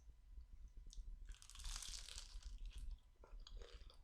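Crunchy bites into an egg roll dipped in peanut sauce, with close, loud crackling crunches followed by softer chewing.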